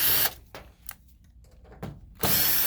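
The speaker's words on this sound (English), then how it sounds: "We have to remove those screws" Two short bursts of a power driver backing screws out of the back cover of a Toshiba e-Studio copier, with quiet clicks and handling noises between the bursts.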